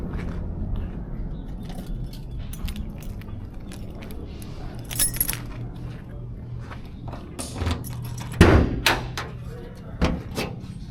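Keys jangle on a 1970 Chevrolet Malibu as the trunk is opened, a series of light metallic clinks and handling clatter with a sharper thump near the end, close and moderately loud.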